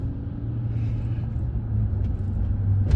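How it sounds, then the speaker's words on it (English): Car driving in Houston traffic, heard from inside as a steady low engine and road rumble that swells slightly louder toward the end, with faint brief higher noises on top. "I'm driving in Houston traffic."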